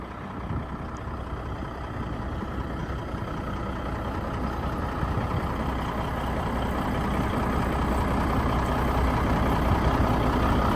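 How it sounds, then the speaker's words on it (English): A Peterbilt 377 manure spreader truck engine runs smoothly and steadily outdoors at a sale site. The deep, continuous diesel rumble stays even throughout and grows slightly louder toward the end, with no talking. "Good smooth running truck."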